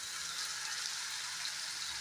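Washed green peas frying in a hot pan give off a soft, even hiss of sizzling oil, steady and fairly faint with no voices.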